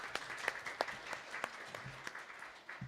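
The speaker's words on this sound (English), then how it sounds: "Give these people a wonderful round of applause" A temple congregation at a Sunday service in Sri Ram Mandir applauds newcomers, a steady patter of many hands clapping at moderate distance with sharper individual claps standing out, lasting a few seconds.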